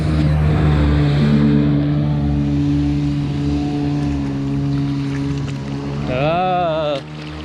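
Powerful boat engine droning steadily nearby, then a rising whine as the boat speeds past, loud and close with splashing water.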